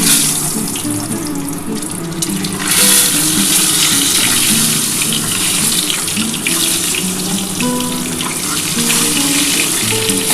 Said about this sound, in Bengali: বন্ধুরা আমার তেলটা গরম হয়ে গেছে আমি তেলের মধ্যে অল্প একটু হলুদ দিয়ে দিলাম এবার আমি ডিমটা ভেজে নিচ্ছি